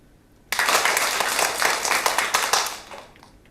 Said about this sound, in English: Please give our finalists and judges a round of applause.